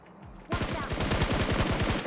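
Automatic gunfire in PUBG Mobile, a loud, rapid burst of evenly spaced shots starting abruptly and rattling continuously to the end, close and dominant.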